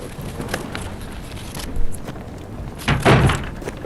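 A door opens with a thunk and a bump in a quiet interior space, followed shortly by a louder second knock or thud. Both sounds are close by, and no one talks.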